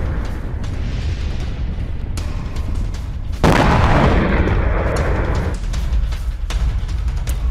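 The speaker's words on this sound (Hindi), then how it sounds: "इजरायली सेना की एयर स्ट्राइक। हमास के ठिकानों पर भीषण बमबारी।" Heavy bombardment from an Israeli air strike on Gaza: a deep, continuous rumble of blasts, with a loud broadband burst of explosion roar swelling in the middle and then subsiding into distant booming.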